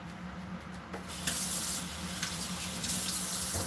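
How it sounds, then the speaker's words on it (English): Tap water runs steadily into a sink as sticky hands are rinsed, starting softly and then turning into a loud, continuous splashing rush that lasts until the end, with no talking. "I need to wash my sticky hands."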